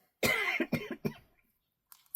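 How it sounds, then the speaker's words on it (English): A few sharp coughs in quick succession, close and fairly loud, then quiet with a faint breath at the end. "I'm going to cough while you look at this."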